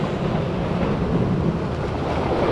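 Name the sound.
ocean waves against rocks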